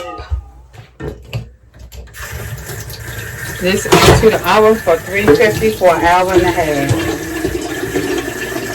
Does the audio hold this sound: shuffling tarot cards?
no